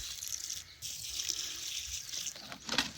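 Water pours onto a dry potted plant in a Hawaiian jungle nursery, a soft close splashing trickle with a brief pause and a final small splatter near the end.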